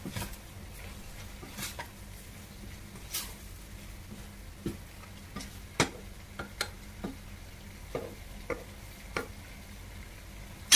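Malunggay leaves are stirred in a pan for a coconut-milk vegetable dish, heard as scattered light scrapes and taps over a faint, quiet sizzle.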